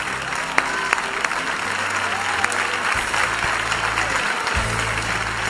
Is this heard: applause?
yes